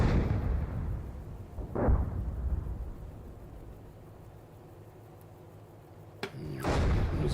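Artillery firing star shells in the tank game Gunner, HEAT, PC: deep booming blasts, one around the middle and a sharper crack near the end, over a low rumbling background.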